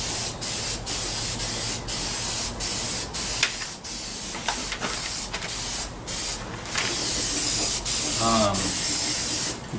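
Self-etch primer hisses from a rattle can onto bare metal on a 2000 Ford F-150 in a steady run of close spray passes. Each pass is cut by brief pauses, and a faint rattle comes near the end.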